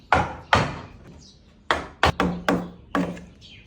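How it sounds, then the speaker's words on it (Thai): Sharp wooden chopping strikes from a chisel cutting into a wooden door, about seven blows in irregular bursts, each a crisp thunk with a short ring, close by and without talk. "สว่านเสร็จแล้วก็ตามด้วยสิวสับให้ได้ขนาด"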